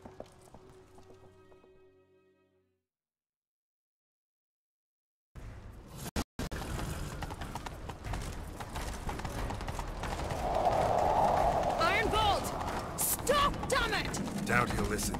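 Horses galloping in The Witcher 3: Wild Hunt, starting after a silent pause with steady pounding hoofbeats, while characters talk over the ride.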